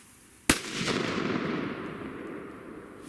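A single sharp firecracker bang, loud and close, followed by a long fading rumble and hiss.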